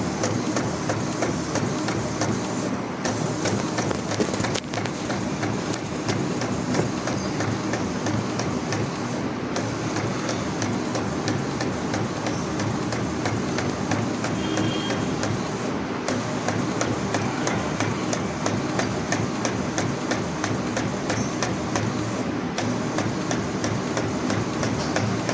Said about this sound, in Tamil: இப்போ நான் பிரிண்ட்டுன்னு கொடுக்குறேன் பாருங்கள்